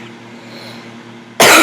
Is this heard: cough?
yes